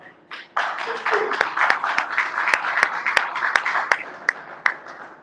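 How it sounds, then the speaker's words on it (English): Applause from an audience at a Nigerian tech alliance event, a steady patter of many hands clapping with sharp individual claps standing out, filling the room for several seconds after a brief pause. "Please, you want to clap?"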